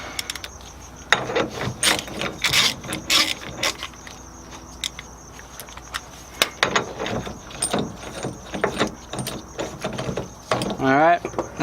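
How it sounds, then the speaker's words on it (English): Ratcheting clicks in quick bursts come from tightening the axle on a drift trike during a dual caliper install, loud and close with short pauses and handling clatter between them, and a voice speaks over parts of it. "Tighten the axle up."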